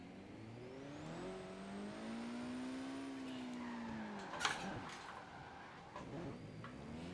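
A car engine in Forza Horizon 3 revs while reversing, a loud, sustained whine that climbs and then sags in pitch, with a brief knock partway through.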